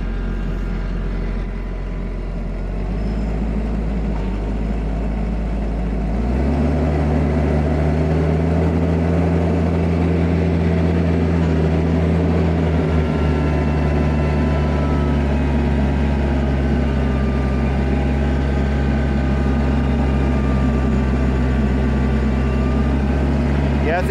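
An IronCraft tiller makes a second pass through ground left untilled for years, its engine droning loud and steady. The pitch steps down partway in as it digs in under load, and a voice talks over it.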